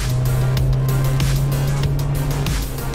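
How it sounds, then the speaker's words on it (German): A car engine in the video game Road 96 cranks outside a laundromat but fails to start, giving a loud, steady droning whir with faint rhythmic pulses for about three seconds. "Our motor not starting outside the laundromat after we rob it."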